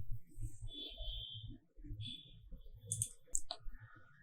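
Mouse clicks on a check box in a computer form, a couple of sharp clicks near the end, heard under steady talking.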